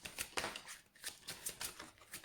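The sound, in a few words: shuffling tarot cards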